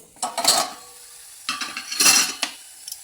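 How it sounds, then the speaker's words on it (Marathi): A metal lid is set on a pan of dill and pea sabzi, making two bursts of clanking and rattling metal contact separated by a quiet gap. "परत दोन मिनटासाठी आपण झाकण ठेवून घेऊ"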